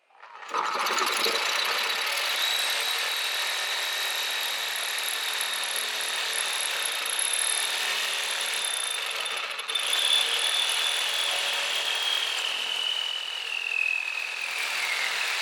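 A Harbor Freight 6 amp reciprocating saw cutting through wood, a loud, continuous buzzing rasp that starts abruptly and runs steadily without a break, close up, with no talking.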